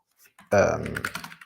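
Quick keystrokes on a computer keyboard while coding, a short burst of clicks starting abruptly and tapering off, heard close and alone.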